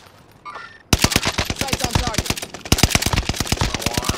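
Video game gunfire in rapid automatic bursts, loud sharp shots in quick succession after a brief quiet start, close and dominant.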